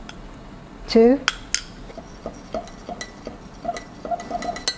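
A metal teaspoon clinks against a ceramic cup while adding Nescafe Gold instant coffee creamer, giving a few light taps and scrapes with one sharper clink early on; a voice briefly counts over it.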